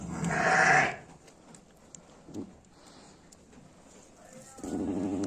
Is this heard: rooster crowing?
no